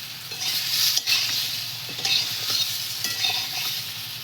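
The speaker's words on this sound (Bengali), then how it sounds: "একটু শিমগুলো দিয়ে নেড়ে নেবো" Fried cauliflower and tender flat beans stirred in a hot pan, with a constant sizzle broken by a few distinct scrapes and clinks of the spatula against the pan, close and clear with no talking.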